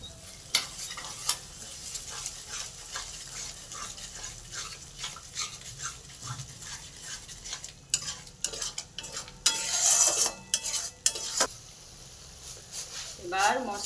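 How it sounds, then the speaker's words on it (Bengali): Spice masala fries in oil with a couple of spoons of sour yogurt, under low sizzling and repeated scraping strokes of stirring, with a louder burst of clattering near the end. "এবার আঁচটা কমিয়ে 2 চামচ মতো টক দই দিয়ে"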